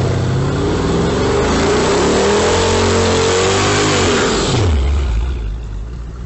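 A supercharged 5.4-liter AMG V8 of a 469-horsepower project car revs loudly up, holds a rising roar and then drops away to idle, close and with no talk.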